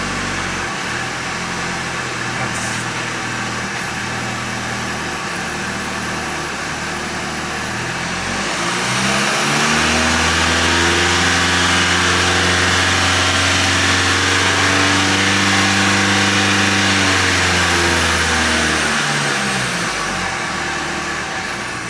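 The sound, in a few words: Volkswagen 4motion car driving, transmission downshifting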